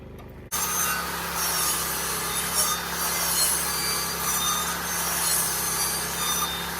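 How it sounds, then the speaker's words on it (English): A Sawzall reciprocating saw fitted with a worn blade starts abruptly and keeps cutting a curve through wood, a steady, close, buzzing rasp with a slight rhythmic chatter and no talking. "I don't really have a good blade on the Sawzall at this moment."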